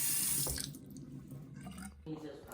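Hands are washed under a running tap, with a loud rush of water that fades, drops away briefly and then returns.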